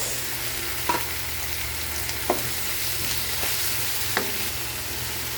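Tomatoes being cooked with salt for ginisang monggo sizzle evenly and continuously in a pan, with a few soft clicks of stirring scattered through.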